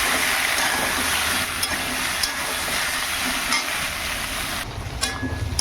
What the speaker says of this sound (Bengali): এই যে বন্ধুরা, একটুখানি জল দিয়ে মশলাটা কষিয়ে নিচ্ছি।